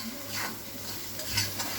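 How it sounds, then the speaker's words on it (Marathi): Ground coriander-cumin powder sautéing in a pan for a quick green-chilli pickle: a soft, steady sizzle with light scraping strokes of stirring, quiet and close. "मग धनाजिराची पावडर, चांगलं परतून घ्यायचं त्याला."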